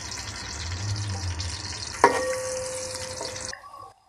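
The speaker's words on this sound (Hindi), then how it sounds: "अब उस पर हम ये प्याज लाल करेंगे" A small onion fries in 100 grams of cooking oil, sizzling steadily up close, with one sharp clink midway and the sizzle cutting off near the end.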